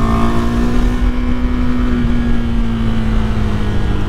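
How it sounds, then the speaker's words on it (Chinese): A KTM RC390 sport motorcycle accelerates on a road, its engine note holding a steady, slightly rising drone, loud and close throughout with no talking. "我们来试个加速。"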